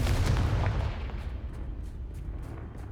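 The Confringo explosive spell goes off in Hogwarts Legacy: a heavy booming blast at the start that rolls into a long fading rumble, with a few soft thuds trailing behind.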